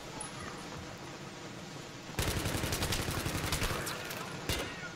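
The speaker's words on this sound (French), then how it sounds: "je l'aime pas, la grosse mitrailleuse" Heavy machine gun fire in Battlefield 3 breaks out as a rapid, sustained burst of shots after a quieter stretch of game ambience, close and dense with a final louder shot.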